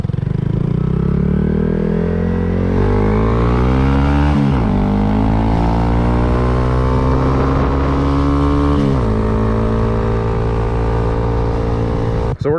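A Honda Grom motorcycle fitted with a cheap aftermarket exhaust runs loud and close, its engine revving up twice and dropping back between climbs, with a steady rumbling idle underneath throughout.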